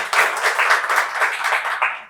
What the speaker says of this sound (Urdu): بھرپور تالی ہونی چاہیے۔